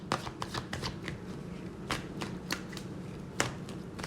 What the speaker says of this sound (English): let's pull some cards for the week of June 8th to the 15th